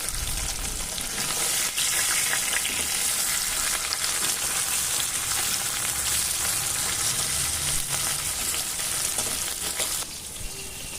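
Hilsa fish gravy made with stone-ground spices sizzles and fries steadily in a pan, a continuous close hiss with faint stirring scrapes throughout, no talking.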